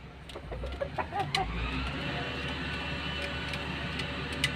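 An eleven-month-old red-faced rooster tied up outdoors gives a few soft clucks near the microphone, followed by a steady low ambient hum with faint ticking.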